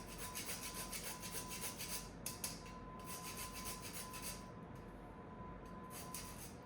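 Nutmeg grated on a microplane grater in a home kitchen, a quiet run of rhythmic rasping strokes, steady at first and then in brief bursts, with no voice over it.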